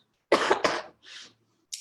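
A person coughs twice in quick succession, two harsh close bursts, followed by a softer breathy throat sound and another brief onset at the end.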